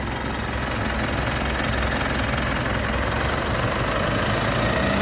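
A 2.4-litre Mitsubishi 4M41 DI-D diesel engine idles steadily and close by, a continuous low rumble with a faint knocking texture, no voices.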